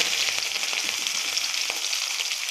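Mustard seeds, onion and curry leaves fry in hot oil for pumpkin poriyal, giving a steady close sizzle with faint crackles and pops throughout, no voices.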